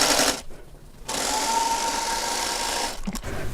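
Steady whirring of a sewing machine stitching churn dash quilt block pieces with right sides together, running in a continuous close burst after a brief pause.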